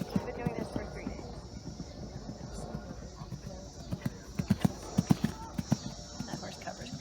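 Horse hooves clip-clop in a show ring under a public-address voice and crowd murmur, the rhythmic hoofbeats growing louder and sharper toward the end as the horse passes close.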